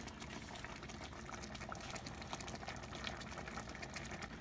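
A pot of mung bean soup with pork and vegetables bubbles steadily at a boil, a faint, continuous crackle of small bursts and no voices.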